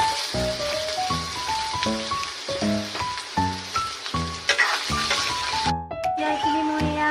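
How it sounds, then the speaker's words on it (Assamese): Potatoes frying in a pan give a steady, close sizzle that runs through the whole stretch beneath a pitched voice or tonal sounds. "মই এই আলুখিনি ইয়াত ফ্ৰাই কৰি লওঁ।"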